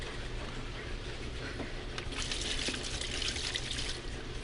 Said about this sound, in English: going to add some apple cider vinegar.